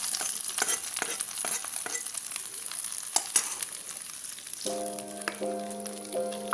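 Dried red chillies and curry leaves tempered in hot oil, poured over a kumbalanga (ash gourd) pachadi, giving a close, crackling sizzle with sharp pops and stirring, then a sustained tone rising near the end.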